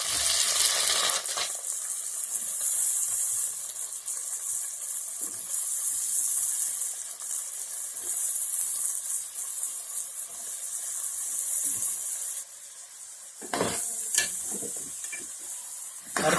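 Raw banana pieces sizzle loudly in hot oil in a pan while being stirred, a steady frying hiss with scraping stir strokes and a brief lull near the end.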